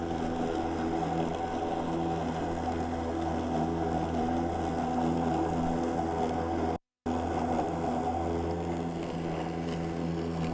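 Makita 36-volt cordless lawn mower cutting thick grass, a steady motor hum with layered tonal whine running continuously, broken by one brief dropout near the end.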